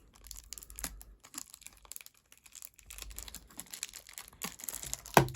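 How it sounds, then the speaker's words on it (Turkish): Packing tape is pulled and torn off the packaging of a Tarmac Works Honda Civic Type R 2016 model car, in scattered close crackly rips and crinkles with a sharper tear near the end. "Hemen Şuradan bandı sökerek açabiliriz herhalde"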